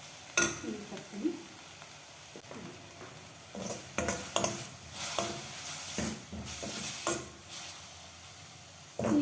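Water is poured into a kadai of frying harive soppu (amaranth greens) curry, giving bursts of loud sizzling and stirring with scraping utensil clatter across several seconds, close up and without talk.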